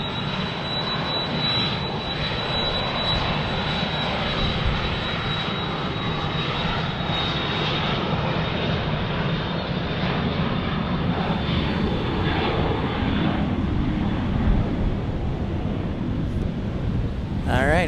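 A Southwest airliner takes off at Dallas Love Field during thunderstorms, its engines giving a loud, continuous roar that holds steady throughout, with wind buffeting the microphone and no talking.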